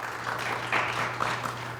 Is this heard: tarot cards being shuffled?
no